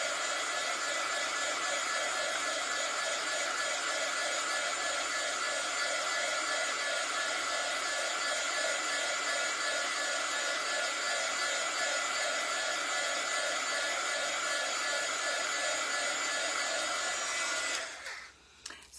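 A heat gun blows a steady, loud, even whoosh of hot air over a freshly painted craft project for about eighteen seconds, then cuts off abruptly.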